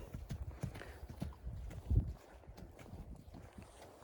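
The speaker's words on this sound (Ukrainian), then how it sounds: "Ось такі коні." Horses' hooves clip-clop on hard ground in Novooleksandrivka in an uneven walking rhythm, fairly close, with a louder thud near the middle and light rustling in the background.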